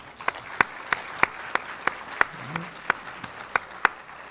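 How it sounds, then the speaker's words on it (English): Sparse, evenly spaced claps ring out at a slow, regular beat at a conference's opening remarks as cabinet members are acknowledged, each clap sharp and distinct against a quiet hall rather than a full crowd roar. "let's give them a round of applause"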